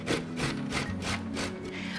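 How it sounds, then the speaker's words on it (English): Potato being grated by hand into a latke mixture, a rough rasping scrape repeated in steady strokes, close and fairly loud with no talking. "And now I can grate this into my mixture."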